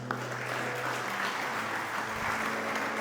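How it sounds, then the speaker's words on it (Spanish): Churchgoers at a Saturday Mass give a sustained burst of applause, a continuous wash of many hands filling the room at moderate volume. "Le brindamos un fuerte aplauso a todos los que han presentado sus ofrendas al Señor."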